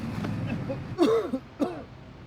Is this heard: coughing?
yes